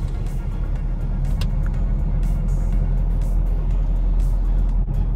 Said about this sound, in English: Now one bike is passing.